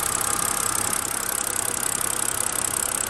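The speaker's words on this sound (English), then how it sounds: "It still has a little ticking sound." A BMW E93 car engine idles steadily with a fast, light ticking or tapping from the valve train, close and constant for the whole clip with no talking.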